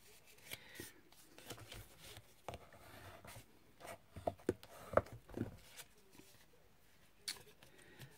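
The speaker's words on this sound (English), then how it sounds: "I'll just get my bone folder and just make sure that's properly stuck down" A bone folder rubbing and pressing glued cardstock down on a card kit, a soft scraping rub with scattered light taps and clicks, close and quiet, no voices.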